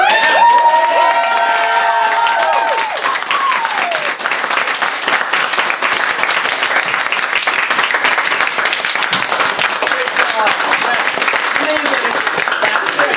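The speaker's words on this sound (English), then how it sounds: "And a round of applause for Lewis." An audience gives Lewis a loud, sustained round of clapping and cheering, dense and close, with a few voices calling out over it.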